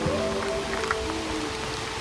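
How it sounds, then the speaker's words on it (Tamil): Rain falling outdoors at a hilltop viewpoint during an off-road trip, a steady dense hiss with no talking. "மழை பெய்யுது."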